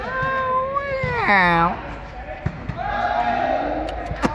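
A cat meows loudly and close by, with several drawn-out, wavering cries and a higher rising call, while people talk in the background and a few sharp knocks and bumps are heard.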